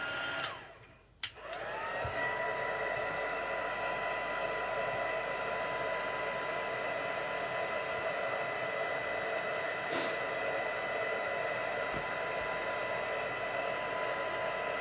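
A hair dryer blows steadily on air dry clay mandalas, a continuous close whir after a brief click on, running unbroken for the rest of the stretch with no talking.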